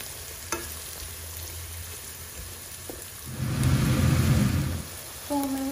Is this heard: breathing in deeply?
no